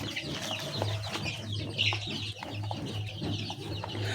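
Many chicks in a brooder cluck and peep together in a busy, overlapping chorus, close and fairly loud, over a steady low hum, with no talking.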